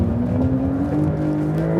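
Porsche 911 Dakar flat-six under hard acceleration in rally launch mode, a steady loud rising engine drone heard from inside the car.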